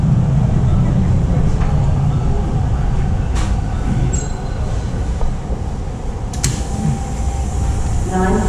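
A TTC subway train rolls into Victoria Park station in Toronto, its loud steady rumble filling the car, with brief squeals and clicks as it slows and an announcement voice over the noise.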